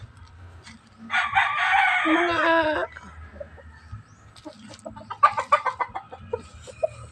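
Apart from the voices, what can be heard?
chickens clucking and rooster crowing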